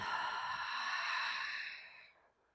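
A long, soft breath exhaled through the mouth during a yoga flow, an airy hiss that holds steady and then fades out to quiet.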